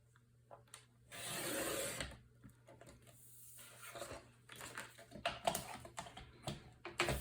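Scissors or a trimmer cutting paper or cardstock to size while decorating a mini album cover: a close scraping slice lasting about a second, followed by scattered rustles, taps and handling noises.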